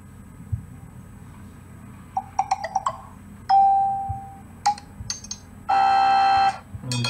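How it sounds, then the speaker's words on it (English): Notification tones from a Galaxy J7 running the NovaOS Android 7.0 custom ROM play one after another: short chimes and bleeps, a sustained tone, then a longer buzzy alert, each separated by quiet gaps. "there are brand new ringtones and brand new notification sound something"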